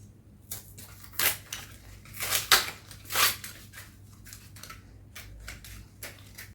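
Tight plastic eyeliner packaging is torn open by hand: a run of sharp, close crinkling rips and crackles in irregular bursts, with a low steady hum underneath.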